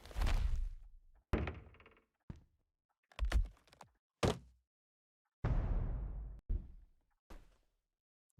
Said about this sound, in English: I also need a thud sound.